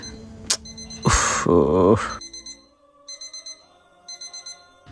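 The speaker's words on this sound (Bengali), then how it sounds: "অ্যালার্ম বাজতেছে।" An alarm clock rings at night in repeating bursts of four quick electronic beeps, separated by short pauses. A loud rustling and groaning noise briefly covers the start of the ringing.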